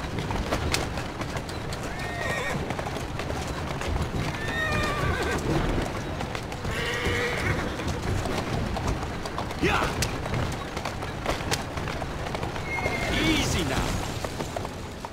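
Horse neighing and whinnying in Assassin's Creed Syndicate, set in Victorian Whitechapel, London, with steady hoof clip-clop on street, birds and game voices talking throughout over a busy ambient background.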